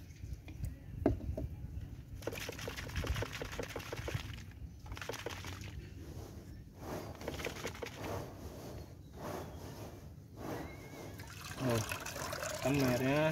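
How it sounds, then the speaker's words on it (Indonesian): Plain water sloshes and trickles inside a dirty motorcycle radiator as it is shaken, a wet rattling heard close up under steady talking. "kotorannya kita kasih air putih, kita kocok-kocok."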